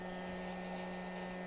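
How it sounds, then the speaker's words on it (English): A hairdryer blows gentle heat during a repair to soften the parts of an iPhone 8 Plus with a broken camera, making a steady close whir with a faint tonal hum and no talking. "gentle hairdryer heat"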